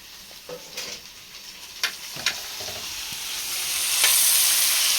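Tomato pieces sizzle and spit in a hot pan with chilli pieces, with a few sharp clinks of stirring and the frying hiss swelling louder toward the end.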